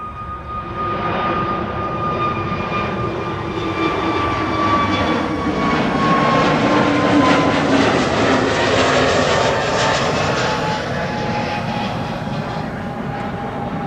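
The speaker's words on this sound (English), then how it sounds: "This A321neo," An Airbus A321neo jet departs from runway 24 at Amsterdam Schiphol, a loud sustained engine roar with a steady whine that swells and holds at close range before easing slightly.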